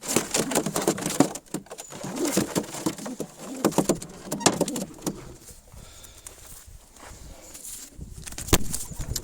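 Sport pigeons in a loft coo in soft, repeated low calls over about nine seconds, mixed with wing flutters, shuffling feet and other close handling noises; someone speaks briefly now and then.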